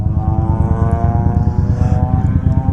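A new Harley-Davidson Iron 1200 motorcycle idles up close with a loud, lumpy, pulsing low-end thump, steady and uninterrupted throughout.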